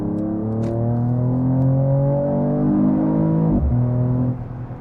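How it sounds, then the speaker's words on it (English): A 2021 Mercedes E53 AMG convertible with a six-cylinder engine accelerates hard, its loud, rising engine note climbing steadily through the gear, then dipping at a quick shift and pulling again. "And now let's accelerate it out."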